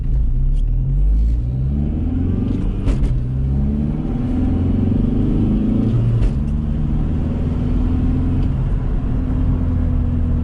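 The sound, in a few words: 2003 VW Jetta TDI wagon accelerating in first gear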